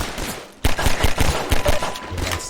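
Gunfire in the video game Half-Life 2: after a brief lull, a loud close volley of rapid shots fires in quick succession.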